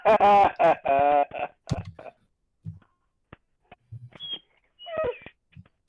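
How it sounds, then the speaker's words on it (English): A dog whimpers faintly in short, sparse whines after a burst of loud speech, the cries scattered and quiet against near silence. "Oh, that's the dog."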